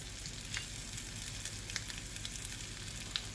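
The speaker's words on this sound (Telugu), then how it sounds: "ఉల్లిపాయని ఇలా వాడ్చుకోండి బాగా" Onions with salt sautéing in a pan, a soft, continuous sizzle with a few faint clicks of stirring, quiet and close, with no voices.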